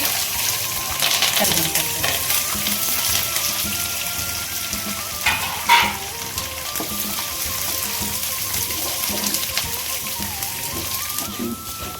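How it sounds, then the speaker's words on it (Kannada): Garlic fries in a pan for a spicy puffed-rice snack, a steady, rain-like hiss and crackle running under a voice that talks throughout. "ಇದು ಫ್ರೈ ಆಗಿದೆ. ಇವಾಗ ಬೆಳ್ಳುಳ್ಳಿ ಹಾಕ್ತೀನಿ."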